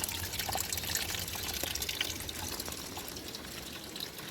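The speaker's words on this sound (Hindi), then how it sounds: "अब देखिए ये पानी जो है कैसे कैसे आ रहा है, ऊपर कोई सोर्स नहीं है इस पानी का" Water trickling and splashing down from a crack in a mountainside on the trail between Gangotri and Kedarnath, a steady close hiss and patter with no talking.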